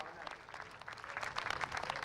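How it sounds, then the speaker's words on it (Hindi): Applause from a parade crowd at a Border Security Force raising day parade, greeting a four-rider motorcycle formation; steady, moderately loud clapping with speech mixed in. "जोरदार तालियां इनके लिए, इस भावना के लिए"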